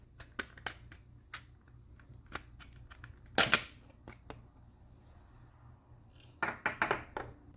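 Plastic shells of a Retroflag handheld controller being pried apart, a series of sharp clicks and snaps with one louder cracking burst midway and a cluster of clicks near the end, close and alone.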